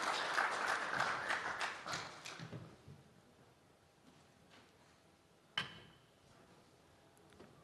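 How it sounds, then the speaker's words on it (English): An audience at the EnerCom Denver energy investment conference applauds to welcome the BKV CEO presenter, loud clapping at first that thins and fades over a few seconds, followed by a single sharp knock and quiet room tone. "So please put your hands together for a warm welcome to our presenter today."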